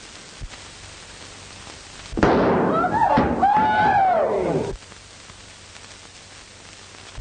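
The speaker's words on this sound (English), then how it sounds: "A fine shot, Carlos." A gunshot in a 1935 classic film: one burst rings out with a long echoing tail for a couple of seconds, standing out loudly against a quiet background.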